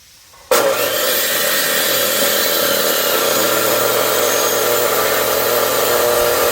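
An electric chainsaw starts abruptly and cuts steadily through firewood logs for a fireplace, a loud, continuous buzzing drone close by.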